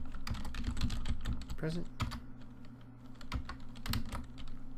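Keystrokes on a computer keyboard entering attendance codes into a spreadsheet, irregular clicks and taps, with a person talking between bursts.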